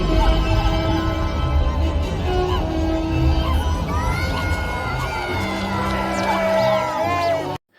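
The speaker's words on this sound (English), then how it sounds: "Here, the rebels cheer in the same way that Ewoks do." Rebel troops cheer in a scene from Return of the Jedi, a loud crowd of shouts and whoops with high, rising cries layered over the din, which cuts off abruptly at the end.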